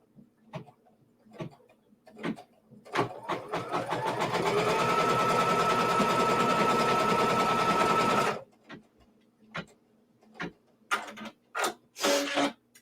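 A sewing machine stitches quilt fabric pieces in one sustained run of several seconds, a loud rapid whirring clatter framed by scattered clicks and fabric handling noises before and after.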